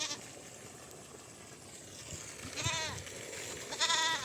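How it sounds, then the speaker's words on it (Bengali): Black Bengal goats bleat twice on a farm, short wavering cries a little way off, over a quiet background. "সবগুলোই খাসি ছাগল"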